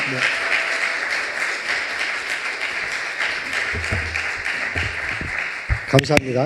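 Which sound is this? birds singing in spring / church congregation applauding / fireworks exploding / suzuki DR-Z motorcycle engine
church congregation applauding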